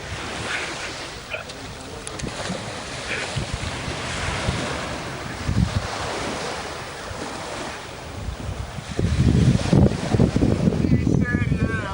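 Sea waves wash and roll onto the shore at Mondello beach under steady, gusty wind that buffets the microphone, with the surf swelling louder near the end.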